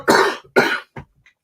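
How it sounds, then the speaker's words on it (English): A tickly cough from an adult, two strong hacking bursts followed by a smaller cough and faint throat sounds, close and loud with no talking. "I've got this tickly cough that's just annoying."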